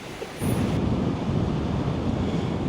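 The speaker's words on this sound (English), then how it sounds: "we're standing here in the pouring rain" Heavy rain pours down on a beach at Elliott Heads, Queensland, a dense steady hiss of falling water starting abruptly and continuing loud and close with no talk.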